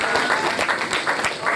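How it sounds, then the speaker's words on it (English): Audience clapping steadily at an anniversary gala marking sixty years of television in Africa, a dense, loud wash of applause from a seated crowd that carries on without a break. "A round of applause for Mumi."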